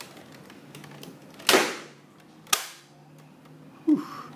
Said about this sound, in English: pump up, rotate, fire. Pump up, rotate, fire.